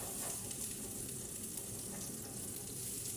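Butter melting in a pan seasoned with turmeric powder, black pepper and salt, giving off a steady, close, even sizzle with no pauses and no voices over it.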